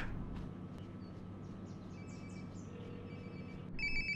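A telephone rings in the video game Life is Strange Before the Storm, a steady electronic ring tone heard over a low ambient game background, growing brighter and louder near the end.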